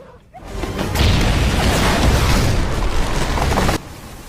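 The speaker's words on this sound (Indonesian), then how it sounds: "ledakan bom tersebut berhasil meluluhlantahkan lokasi tersebut" A loud, rumbling blast erupts and roars for a few seconds, dense and noisy, then cuts off sharply.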